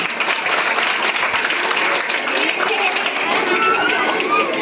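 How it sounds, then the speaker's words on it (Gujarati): An audience claps loudly to welcome young children entering a primary school's girls' education and school enrolment festival, a dense, continuous burst of applause from a crowd of hands throughout. "આપણે સૌ તાળીઓના ખડખડાટથી આ બાળકોનું સ્વાગત કરીશું"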